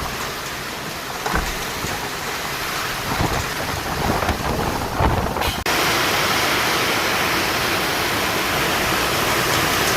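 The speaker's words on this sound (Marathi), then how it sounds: "आज मुसळधार पाऊस आणि वारा पाऊस पडत आहे" Dense, steady rush of heavy monsoon rain with gusty wind in a Nashik neighbourhood, loud and continuous throughout, swelling slightly louder partway through.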